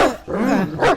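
A single dog gives a short pair of sharp, loud barks close by, with a brief yelping rise at the end.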